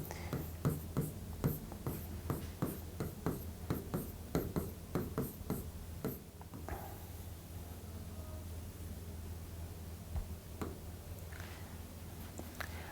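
Chalk or marker writing on a board during a chemistry lesson on carbon and graphite: a series of quick, rhythmic scratchy strokes for about six seconds, then a quieter stretch with faint room noise.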